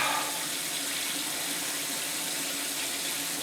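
A toilet tank refills after a flush during a leak repair, giving a steady close rush of running water that holds at an even level throughout with no talking.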